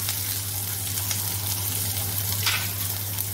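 Onions sautéing in hot oil with cinnamon, cloves and bay leaf, a continuous crackling sizzle heard up close over a low steady hum.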